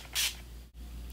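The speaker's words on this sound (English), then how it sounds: "I'm just gonna mist the brush with my Urban Decay All Nighter Makeup Setting Spray just to intensify" A single quick hiss of Urban Decay All Nighter makeup setting spray mists a brush, a soft close puff lasting a fraction of a second in a quiet room.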